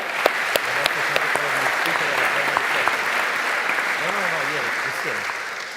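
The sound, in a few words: audience applause for the candidates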